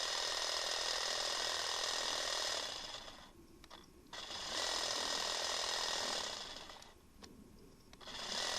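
A handheld hedge trimmer runs in its slower economy mode beside a big conifer hedge, giving a steady, loud mechanical buzz that dips twice briefly before resuming.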